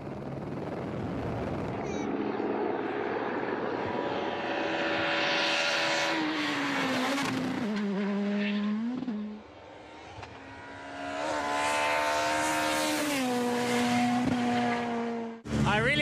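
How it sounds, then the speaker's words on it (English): A Skoda Fabia S2000 rally car races along a tarmac stage of the Circuit of Ireland rally, its engine screaming loudly with rising and falling gear changes. The car passes close by, with a brief dip in the engine note partway through. "Pekka Lappi in his Skoda Fabia S2000."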